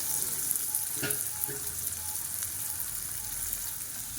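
Steady sizzling and crackling of food frying in hot oil, close by, with a few scraping stirs early on.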